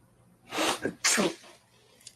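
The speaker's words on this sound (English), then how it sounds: "you sneezed" A single close sneeze, a quick sharp inhale followed by a loud burst, in an otherwise quiet space.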